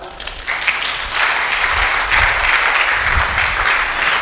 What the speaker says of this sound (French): Est-ce qu'on peut applaudir ça?